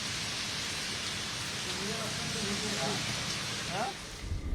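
Continuous dense hiss of heavy monsoon rain falling in Mumbai under dark clouds, with a voice speaking faintly beneath the downpour.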